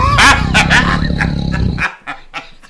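On a radio show, a person's voice loudly imitates a growling cougar, making rough, strained growls that fade into a few quieter bursts.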